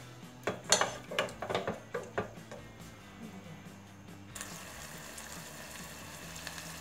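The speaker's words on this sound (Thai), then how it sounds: "แล้วก็รวนเขาสักหน่อยฮะ" Grilled pork neck is stir-fried in a pan, with a quick run of metallic clinks and scrapes from the utensil against the pan, then a softer steady sizzle and bubbling.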